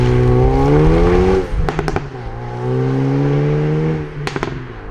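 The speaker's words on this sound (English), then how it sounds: "when you change up, there's little blips, is what they call the afterburner, so a little bit of extra fuel going into the exhaust there" Exhaust of a 2018 Hyundai i30 N hot hatch: a loud, close engine drone climbs through the revs, then sharp crackling pops mark each upshift, with a second burst of pops near the end.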